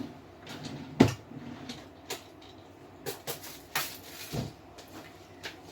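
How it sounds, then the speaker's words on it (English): A desk drawer is pulled open and rummaged through to fetch a hole punch in a cramped craft space, giving a few close, sharp clunks and scrapes with one strong thud near the start, then softer knocks and rattles. "I have to get it out of the drawer."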